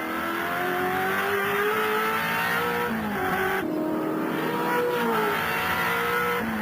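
Peter Brock's race car is driven hard around Bathurst in 1986, heard from inside as a loud, continuous engine roar rising through the revs, with a brief drop at a gear change before climbing again.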